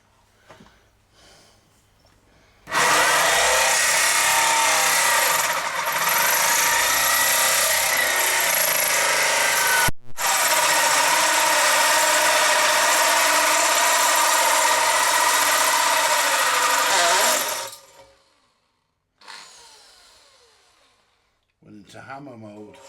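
Power drill running in hammer mode while fitting an IEC socket into a CB radio build, a loud harsh rattling whine held for about fifteen seconds with one brief break, then short quieter bursts, with voices before and after.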